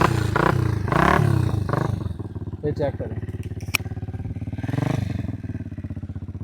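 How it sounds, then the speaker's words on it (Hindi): A Hi Speed Infinity SR 150 motorcycle, two years old with its original exhaust, runs close by with a steady, chugging idle and a brief rev at the start, while someone talks over it. "तो अभी किक मार के स्टार्ट करते हैं।"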